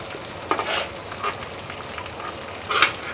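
Garlic and green chilies fry in hot oil, giving a steady sizzle broken by a few louder bursts of crackling and stirring, close up and with no voices.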